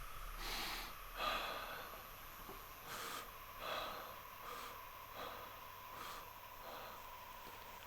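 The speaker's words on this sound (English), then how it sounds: "So these are forceful breaths." Forceful breaths in a qi breathing exercise: a series of sharp, rhythmic nasal exhales, roughly one every second, close and fairly loud over a quiet background.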